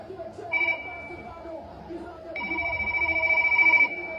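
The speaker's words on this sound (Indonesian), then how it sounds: "Teh, telepon Pak Deddy teh." A telephone rings indoors, two electronic trilling bursts, the second longer and louder, over background noise of a household.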